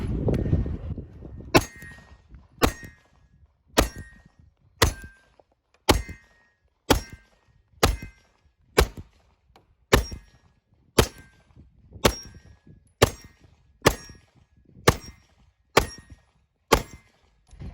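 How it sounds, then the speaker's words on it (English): A string of pistol shots from a handgun fitted with a Crimson Trace red dot optic, each followed by a clang off steel targets, fired in a steady rhythm of about fifteen evenly spaced reports, loud and close with no talking. "So let's just try shooting with both eyes open."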